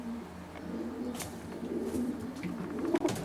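Racing pigeons in a loft's young bird section coo softly and steadily, a low murmuring chorus with a few brief flutters and knocks, close by and fairly quiet.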